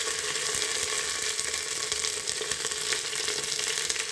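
Fresh mint leaves hitting hot fat in a pan for marriage-style ghee rice, a dense, steady, close sizzle and crackle with no talking.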